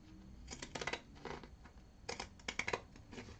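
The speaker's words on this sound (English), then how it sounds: "I need sharper pinking shears." Old, dull pinking shears trim a fabric seam allowance, giving close, crisp snipping in several short clustered bursts separated by brief pauses.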